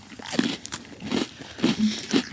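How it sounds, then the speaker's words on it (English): Space Oreo cookies being crunched and chewed close up, several distinct crunchy bites spaced about half a second apart, with no talking. "I'd rather just have an Oreo because now I'm annoyed by the sound in my mouth"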